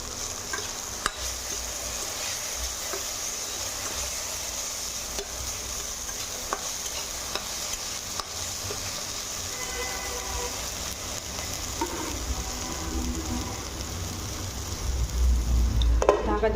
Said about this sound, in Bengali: ঢাকা দিয়ে ভেজে নেব।